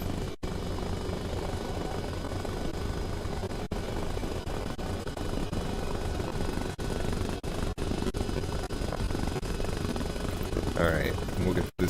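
A helicopter in the video game Arma Reforger, a continuous loud rotor and engine drone filling the whole stretch, with a voice speaking over it near the end.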